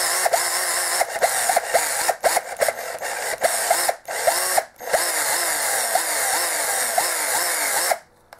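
A 14.4 volt Bosch cordless drill whines in repeated bursts, revving up and down with brief pauses between runs, close and fairly loud.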